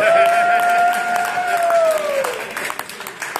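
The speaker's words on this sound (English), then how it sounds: "Give yourselves a big round of applause." Audience applause and crowd noise at a stand-up comedy show, with a voice speaking over the clapping, which thins and turns patchy near the end.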